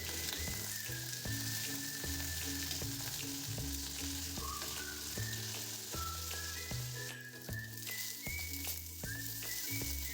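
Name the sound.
potatoes and raw banana frying in oil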